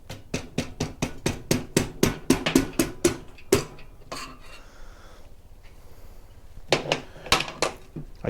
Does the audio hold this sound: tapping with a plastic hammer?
yes